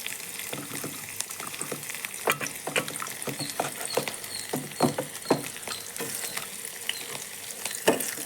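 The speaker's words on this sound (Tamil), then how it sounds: "ஒரு 2 செகண்ட் இது வதங்கட்டும்" Onion, curry leaves and coriander fry in a pan with a steady sizzle, punctuated by frequent sharp scrapes and taps of a spoon stirring against the pan, close and fairly loud.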